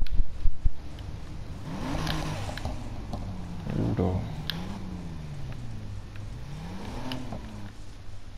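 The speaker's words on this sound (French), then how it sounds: "Juste une hâte, c'est d'entendre le bruit de moteur qu'elle fera." A Volkswagen Beetle engine in the Need for Speed Heat racing game revs and rises and falls in pitch over several seconds, at moderate loudness with some background game noise.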